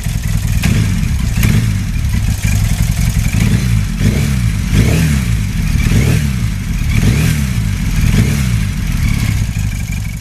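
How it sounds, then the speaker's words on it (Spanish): A two-cylinder 750 Japanese motorcycle engine is revved repeatedly, loud and close, with a rough lumpy idle rising into roughly five throttle blips spaced a couple of seconds apart. "una motocicleta de 2 cilindros que prometía algo revolucionario"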